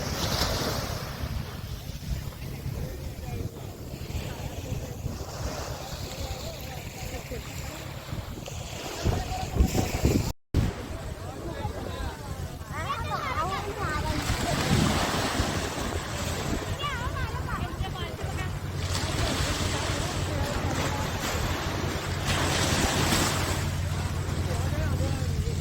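Sea surf washes continuously at the shore during a school trip, a broad, steady roar mixed with gusting wind buffeting the microphone, and voices sound faintly beneath it.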